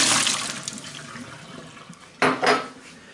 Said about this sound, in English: I can discard all of this now hot water and vinegar solution